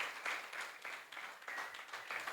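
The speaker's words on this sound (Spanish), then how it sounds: "un aplauso para Rubén y Doménica" Brief, fairly faint applause from a church congregation, a short burst of many hands clapping in uneven pulses for about two seconds.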